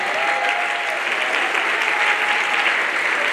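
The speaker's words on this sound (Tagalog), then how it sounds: "Pwede ba natin ibigay at palakpak at papuri sa Kanya?" Steady, full applause from a crowd at a teachers' congress in Pangasinan, Philippines, following a preacher's call to praise, with a faint voice briefly audible early on.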